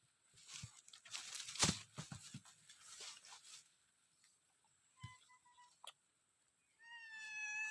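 A house cat gives a short, clear meow near the end, after a stretch of scratchy rustling and crunching close by, with quiet gaps in between.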